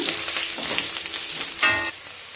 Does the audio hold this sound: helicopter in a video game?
no